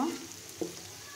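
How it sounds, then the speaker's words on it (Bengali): Beef and potato pieces fry in a pan for a mashed-style bharta, a faint, steady sizzle with a soft stir or clatter just past the midpoint. "এখন আমি সুন্দর করে মাংসটা আর আলুটা লাল লাল করে ভেজে নিব"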